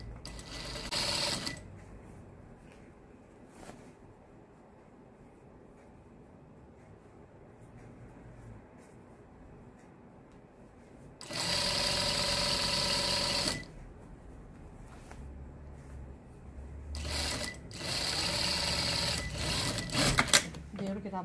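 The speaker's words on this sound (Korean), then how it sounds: "안감이랑 이렇게 맞잡아서 이렇게 맞춰서 이렇게 이제 박음질 합니다." Sewing machine stitching the lining of a Jeju Air uniform during a garment alteration, heard in a few loud bursts of whirring separated by quieter stretches of handling noise.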